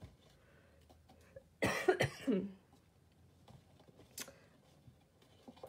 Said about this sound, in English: right when I go live, I start coughing